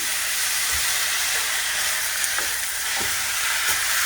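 Chicken lo mein noodles stir-fry with soy sauce in a hot pan, giving a loud, continuous sizzle. Occasional soft scrapes of stirring break through, and no one speaks.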